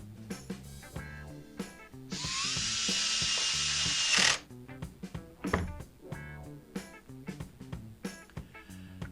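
A Husqvarna T536LiXP battery chainsaw motor is switched on for a test after repair, whirring steadily and loudly for about two seconds before cutting off, with clicks and handling noises before and after.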